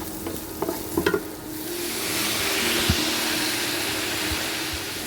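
Potatoes and moringa leaves stir-fry in a pan with a broad, steady sizzle. A few clanks and scrapes of stirring come at the start, and the frying hiss swells and holds after that.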